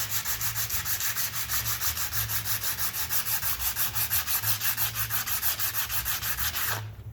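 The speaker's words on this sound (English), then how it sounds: "I can always take a piece of sandpaper and I can sand it down." Sandpaper is rubbed back and forth over a rusty metal part in fast, even strokes, a close, rhythmic scratchy rasp repeating steadily for several seconds before stopping abruptly, with no talk.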